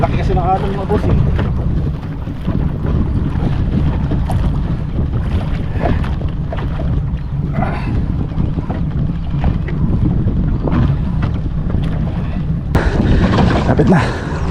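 Big waves surge and slap against a moving fishing boat with a constant heavy rumble and wind buffeting the microphone, while voices talk faintly underneath.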